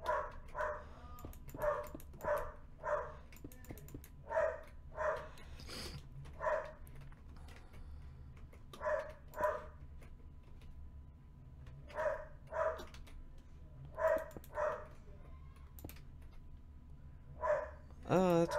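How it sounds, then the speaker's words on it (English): A dog barks repeatedly indoors in short bursts of two or three, moderately close, with gaps of quiet and a background hum between. "Stop barking."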